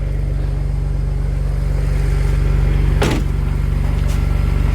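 A BMW 335i with an N54 engine idles with a steady low, throbbing hum; a sharp mechanical burst cuts in midway before the idle settles again.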